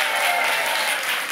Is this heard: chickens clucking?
no